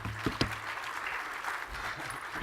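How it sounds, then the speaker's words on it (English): An audience at a brewery startup challenge event claps in a fairly faint, even patter lasting a few seconds, with a couple of louder claps near the start. "Round of applause."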